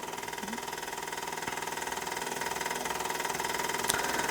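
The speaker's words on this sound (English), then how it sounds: "the GEM model steam engine, made in Wiltshire in the UK" A restored GEM model steam engine from Wiltshire, UK, dating from around the 1950s, runs steadily with a continuous mechanical hum and fine rapid rhythmic ticking, moderately loud and close, with no talk.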